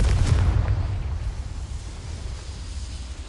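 A Confringo blasting spell explodes in Hogwarts Legacy with a loud, sharp burst at the start that fades into a deep rumbling tail over a few seconds.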